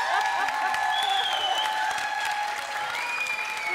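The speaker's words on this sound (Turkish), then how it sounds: "Onlar da bir alkış hak etti." Studio audience applause on a Turkish family game show's New Year's special, a steady wash of clapping sustained throughout with faint musical tones ringing above it.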